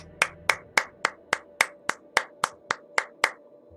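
About a dozen sharp, evenly spaced claps ring out at a slow, steady beat, close and clear against a quiet background.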